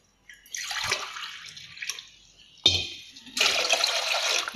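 Water poured into a cooking pot for rice in a biryani recipe, about three glasses in a row: splashing pours that stop and start again, the last one steady and loud, with no talking.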